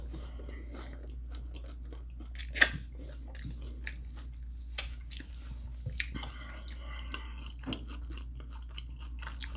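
Close mouth sounds of someone biting into and chewing a taco supreme, with crunchy bites and moist mastication repeating irregularly over a steady low hum, no talking.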